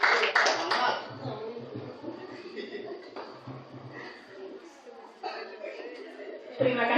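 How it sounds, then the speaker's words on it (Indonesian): Audience applause at a school teacher-training presentation, a burst of clapping with laughter and chatter in the opening second, then fading into murmuring crowd noise with another brief swell near the end. "Boleh berikan tepuk tangan"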